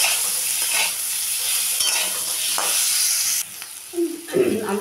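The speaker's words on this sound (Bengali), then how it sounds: "আলুটাকে একটু ভেজে নিলাম" Boiled potatoes fry with salt in a pan, a close, loud sizzle with stirring scrapes, easing off near the end as a voice briefly speaks.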